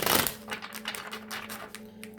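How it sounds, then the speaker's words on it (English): Playing cards are shuffled up close in a quick run of soft clicking and flicking taps, fairly faint and continuous over the short stretch. "Let me shuffle these real good."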